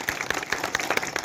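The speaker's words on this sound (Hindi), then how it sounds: "आप लोग इनके लिए जोरदार तालियां बजाकर इनको स्वागत करें" Crowd at a political rally in Ballia claps to welcome a guest, brisk scattered applause with distinct individual claps over a short stretch, moderately loud and fairly close.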